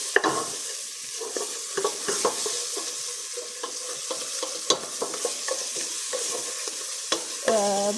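Tomato-paste stew, part of a meat soup, is stirred and sautéed in a pan. A continuous sizzle runs under repeated scraping strokes of a spoon against the pan, close and alone, with no voices.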